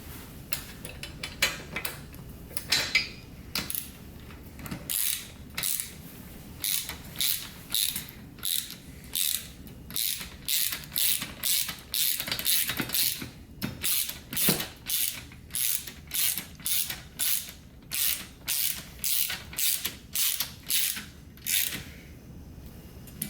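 A ratchet wrench with a 13 mm socket tightens the mounting bolts of a racing seat, giving long runs of fast, crisp clicks in steady bursts that pause briefly between strokes, close up and with no talking.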